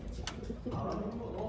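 Racing pigeons coo softly in a loft after a long race, low murmuring calls close by, with faint voices in the background.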